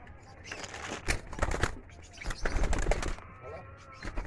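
Doves in an aviary coo and rustle amid the chirps of other small cage birds such as Java sparrows and zebra finches, heard close with people talking over them.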